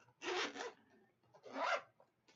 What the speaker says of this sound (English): And it has a zipper.